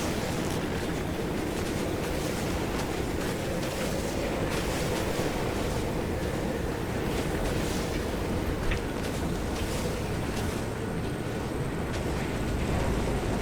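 Strong wind roars steadily in the Pacific Drive video game, a dense unbroken rush of noise with gusty surges throughout, loud and close with no voices.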